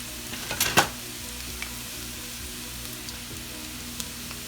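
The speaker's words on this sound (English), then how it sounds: "I got my little wooden utensil, and I'm going to go ahead and stir it up now" Home-fried potatoes and onions sizzle steadily in a pan, with a brief scrape of a wooden utensil stirring them near the start, then a continuous soft crackle with occasional pops.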